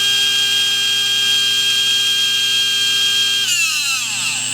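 A SpeedZone Evolution 17.5 brushless motor spins at about 24,000 RPM, making a loud, steady high-pitched whine that holds constant and then shifts pitch near the end, with no talking.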